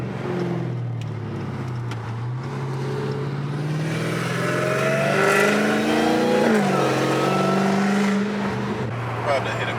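A Dodge Hellcat roars through hard acceleration, its engine note climbing steadily in pitch, dropping at a gear change and climbing again, loud and close throughout.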